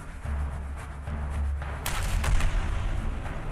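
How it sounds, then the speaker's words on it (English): Artillery shell explosion in a video game set around a rotting railway, a heavy rumbling boom following a low steady drone, with a sharp burst of crackling blast noise about halfway through. "That was an artillery shell."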